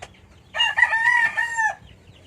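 A single loud, close call from a large chicken, a drawn-out crowing squawk lasting about a second against a quiet background.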